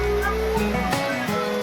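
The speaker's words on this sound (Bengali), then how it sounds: "পর পর ঢেউ আছড়ে পড়ছে।" Rough sea waves crash one after another at Digha beach on a rainy day, a loud continuous wash of surf with repeated surges, heard close and without speech.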